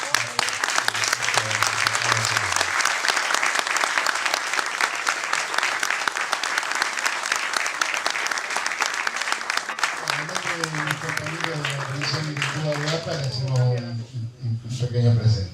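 Applause from the audience at a lecture on catastrophic risk management, measured by an applause meter. It is a loud, continuous roar of clapping that lasts the whole time, with voices rising near the end.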